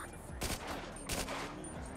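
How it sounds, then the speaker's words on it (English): Video game roleplay shootout at a building with police. Two sharp gunshot bursts sound over loud, dense background noise, close together and evenly spaced. "I'm just giving him warning shots so he knows."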